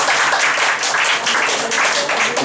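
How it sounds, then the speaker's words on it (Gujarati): Audience applause at a college gathering welcoming a guest, a lecturer at Kamrej College, sustained dense clapping filling the room at steady loudness throughout. "એમને પણ બધા તાળીઓથી વધારીએ"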